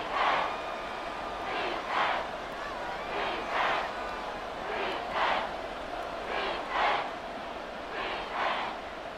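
In the Madden 25 football video game, a stadium crowd roars continuously, swelling in repeated waves of cheering throughout.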